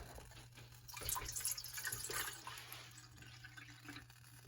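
Water pours into a metal bowl set on a stove, a steady splashing, trickling stream of moderate loudness that rises and then eases off, with no voices present.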